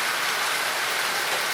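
Steady rain pouring onto a surface, a dense even hiss of drops that holds constant throughout.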